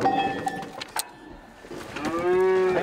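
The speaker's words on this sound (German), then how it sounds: "Alejandro, sein Neffe, setzt einem Kalb die Ohrmarken, damit es unterwegs seinen Ausweis dabei hat." A calf on a traditional transhumance drive in Andalusia, Spain, bawls while being fitted with ear tags: short calls early on, then a long, loud, rising moo with strong harmonics that fills the last second, close by with no talk.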